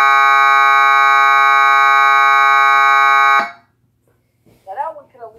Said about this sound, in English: Alright guys, this is buzzer.